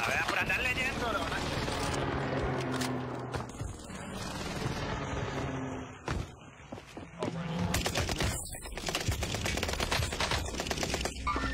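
Dense, sustained gunfire in a first-person shooter video game, with rapid automatic bursts layered with explosions and game effects, loud and continuous, under excited player talk.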